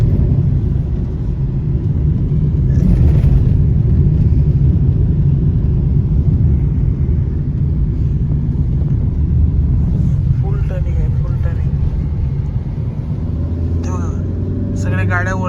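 Vehicles climbing a winding mountain road, a continuous low engine and tyre rumble heard from close by, with faint chatter and a brief voice near the end.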